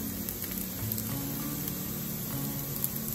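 Garlic and onion sauté in a pan, a steady close sizzle of frying with a low crackling bed running unbroken throughout.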